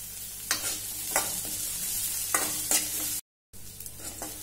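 Chopped onions and curry leaves sautéing in a pan for moong dal sambar, a close, steady sizzle with intermittent stirring scrapes and a brief dropout to silence near the end.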